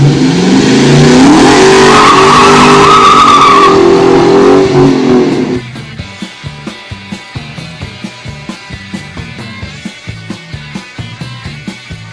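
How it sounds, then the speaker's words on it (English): A rear-wheel-drive car does a burnout, a loud, sustained roar of revving engine and screeching tires for several seconds. It then drops to a rough, loping idle with steady rhythmic pulses. "A burnout is possible in most rear-wheel drive cars."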